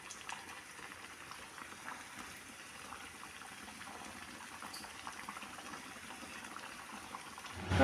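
Thattai dough frying in hot oil, a steady soft bubbling sizzle that continues evenly throughout, with a clatter right at the end.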